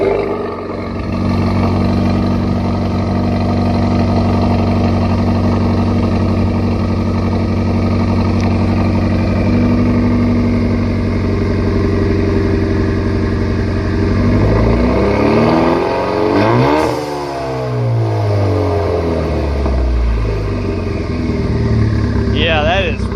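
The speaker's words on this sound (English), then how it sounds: "Yeah, that is rich right now. Rough idle. Really rough idle." A 2017 Camaro's 2.0 turbo four-cylinder, with a misfire and dead cylinder, idles loudly and unevenly with a lumpy, stumbling rhythm, rising briefly midway, while people talk nearby.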